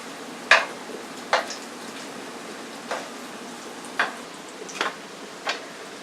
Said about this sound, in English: It's frying. You can hear it.